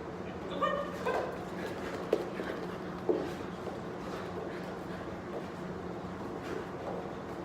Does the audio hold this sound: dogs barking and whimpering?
yes